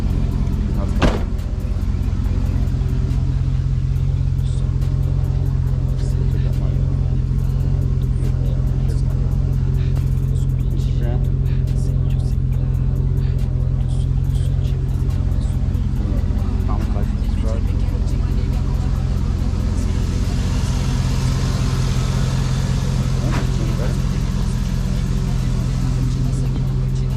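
A 1999 GMC Sierra 1500 pickup engine idles with a steady low rumble, close and continuous throughout, with occasional clicks and background noise and people talking over it.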